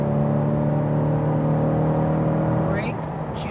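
A Chevrolet Corvette C8 on a race track pulls hard under throttle, its engine droning loud and steady before the tone shifts as it eases off, with faint voices at the very end.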